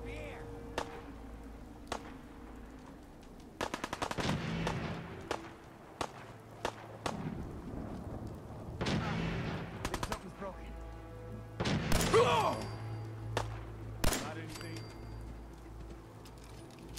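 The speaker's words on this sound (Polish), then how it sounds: "słychać strzały" Scattered gunshots in Fallout 4 crack out over about seventeen seconds, single shots and short bursts, some sharp and close, others duller, with faint background murmur between them.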